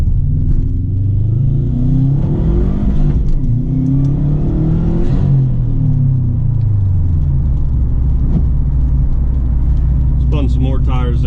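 A Subaru WRX with a Cobb cold air intake and Accessport pulls hard with its tires spinning, a loud, close engine drone rising and falling in pitch as it shifts, with someone talking over it.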